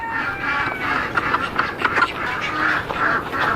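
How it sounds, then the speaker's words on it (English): Ducks on a farm in Texas after snow, quacking repeatedly in a steady run of calls at moderate distance, with faint farmyard noise around them. "This is the goats and the ducks"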